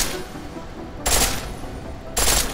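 A pistol fires on full auto in Deus Ex: Mankind Divided, with two short, loud bursts about a second apart over quieter background noise.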